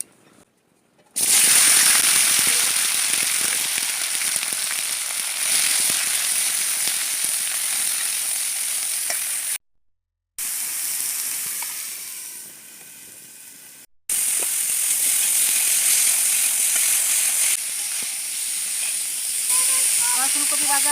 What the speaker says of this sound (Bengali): আমি এখন আলু আর ফুলকপি ভেজে নেব